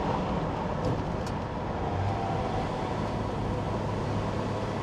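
A 1968 Dodge Charger R/T with a 440 V8 and four-speed manual pulls through the gears, its steady broad engine drone heard from inside the car with a brief pitch change around a shift into third.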